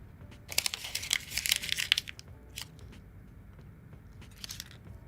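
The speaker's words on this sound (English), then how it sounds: "So I'm just going to crumple up my Post-it." A Post-it note is crumpled up in the hand in two bursts of crisp crinkling and crunching, close and fairly quiet, with short pauses between.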